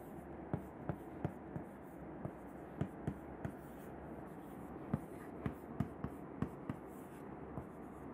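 Marker or chalk strokes on a board during a chemistry lecture, a steady run of short tapping and scratching strokes at irregular intervals, close and moderately loud over a faint room hum, with no talking.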